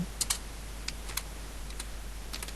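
Quick bursts of keys clacking on a computer keyboard, a handful of light taps spread unevenly over a quiet hum, close and faint.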